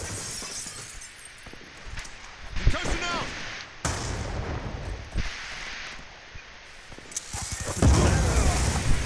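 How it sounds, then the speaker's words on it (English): Concussion grenade going off during a Black Ops 2 Search and Destroy match: several sharp, shattering bursts land amid busy gunfire and game noise, with voices talking over the action. "Concussion out!"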